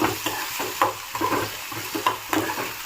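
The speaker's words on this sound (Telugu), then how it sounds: "ఇప్పుడు శుభ్రంగా వాష్ చేసుకున్న మెత్తళ్ళు వేసుకుందాము. ఆయిల్లో ఒక 5 మినిట్స్ వేగనిద్దాము." Washed dried fish fry in hot oil, sizzling steadily up close while a spoon stirs them in quick, repeated scrapes against the pan. No voices are heard.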